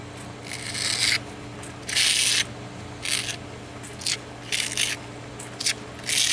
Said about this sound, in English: Then just getting a sponge, going over it.